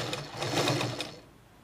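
A sewing machine stitching piping cloth for a size 36 boat neck lined blouse, running in a fast whirring burst of stitches for about a second before stopping, close by and without talk.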